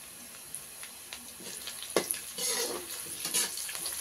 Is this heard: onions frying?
yes